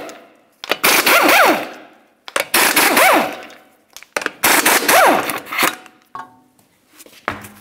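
A power impact tool with a 21 mm socket rattles off the lug nuts of a 2003-2011 Mercury Grand Marquis wheel, three loud, close bursts of hammering with rising whine, each ending as a nut breaks free.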